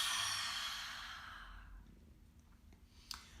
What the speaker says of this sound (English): Open your mouth wide,